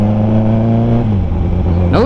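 Deep, throaty engine of a Kawasaki ZX14R motorcycle, roughly 1400 cc, running steadily and close, with pitch sliding lower midway and rising in a quick rev at the end.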